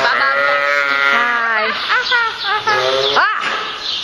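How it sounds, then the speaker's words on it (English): Sheep bleat in a long wavering call, then a couple of shorter bleats close by, with faint bird chirps and livestock noise on a farm. "I want to call you Baba Black Sheep."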